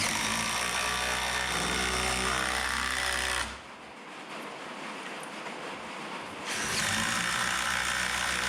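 A socket ratchet drives a jack stud through a washer to secure an outside stud to a pole barn post, giving a steady, close mechanical clicking and grinding that drops away midway and then resumes.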